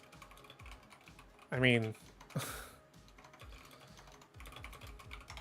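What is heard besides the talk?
typing on a computer keyboard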